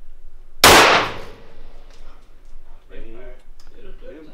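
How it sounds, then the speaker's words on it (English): A rifle shot aimed at a target 800 yards downrange: one sharp, loud crack close by, quickly fading into a short ringing tail, with people talking afterward. "second shot at 800 yards was an impact, and then he just went ahead and took a few more shots, all landing on the target at 800 yards"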